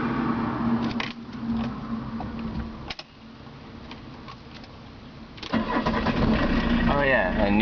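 A 1981 VW Rabbit diesel engine cranks with a rough grinding, then catches and settles into a loud, clattering idle close by.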